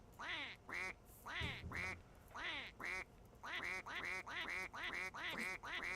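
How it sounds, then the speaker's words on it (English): Angry, Donald Duck-like quacking from the We Happy Few video game, a rapid run of nasal quack bursts in uneven clusters, fairly quiet and with no talk over it. "Angry Donald Duck noises."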